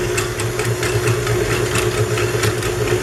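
An electric mixer on medium speed whisks whipping cream with Nesquik, giving a continuous buzzing motor hum with a rapid, even pulsing rattle throughout, close and fairly loud.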